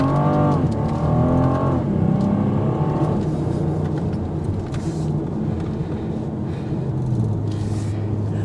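A 2022 BMW M440i accelerates hard, its engine note climbing through rising sweeps with gear changes, then settling into a lower, steadier drone, heard from inside the cabin with no talking.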